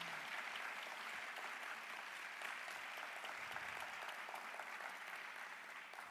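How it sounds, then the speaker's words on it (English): Conference audience applauding distinguished speakers, a dense, steady wash of clapping from a large crowd at a moderate distance, sustained without a break. "Please also join me in giving a round of applause to all the distinguished speakers who presented over the past 2 days."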